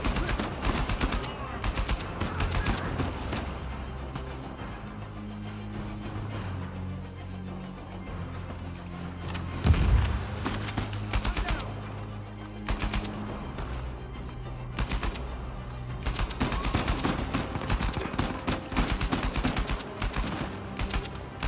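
Rapid bursts of AK rifle fire in Uncharted 4 gameplay, sustained automatic volleys with short gaps, loud and close, set against game background noise and occasional speech.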